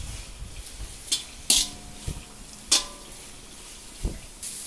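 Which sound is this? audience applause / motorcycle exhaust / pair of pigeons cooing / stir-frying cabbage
stir-frying cabbage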